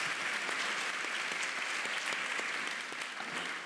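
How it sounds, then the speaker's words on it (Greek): An audience at a leadership talk breaks into sustained applause, dense even clapping from many hands that holds steady and tapers slightly at the end. "Ένα χειροκρότημα"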